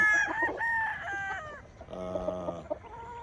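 A rooster crows loudly and close by, a long harmonic call, followed by a second crow, with no voices.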